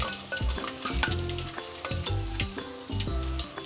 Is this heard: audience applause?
no